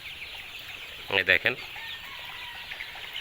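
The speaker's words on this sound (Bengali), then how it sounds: "মুরগির বাচ্চাও ভালো আছে" Chickens and chicks on a poultry farm, with a short, close burst of clucking that lasts under half a second amid quiet surroundings, and someone speaking briefly.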